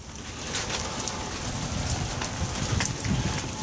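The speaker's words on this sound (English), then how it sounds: "That's a lot of hail." Heavy hailstorm in Phoenix, Arizona: dense, steady pelting of ice and rain on surfaces, with sharp clattering hits building slightly toward the end and no talk.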